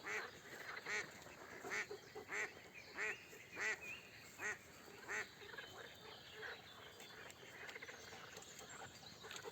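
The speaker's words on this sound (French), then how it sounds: "les canards. Alors là, c'est un concert." Ducks quack repeatedly in a loose rhythmic series, moderately distant and outdoors, with a soft natural background hum.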